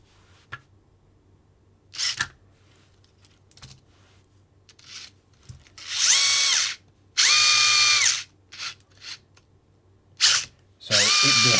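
Furitek Micro Beast ESC driving a small RC car motor, giving short bursts of whining motor spin, each a second or two long, with rising and falling pitch, separated by quiet gaps and faint clicks.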